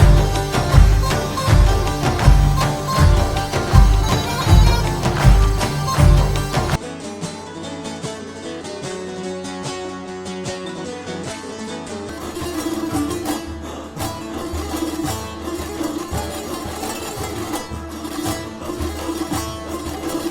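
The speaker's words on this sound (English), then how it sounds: "Whereas actual Middle Eastern music sounds like this." Dense traditional Middle Eastern music with driving hand percussion and plucked strings, shifting to a lighter, sparser passage partway through.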